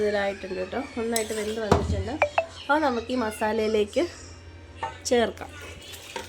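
Spoon clinks and scrapes ring against a pot as masala and cooked beef are mixed for a beef curry, the metal knocks scattered under steady talking.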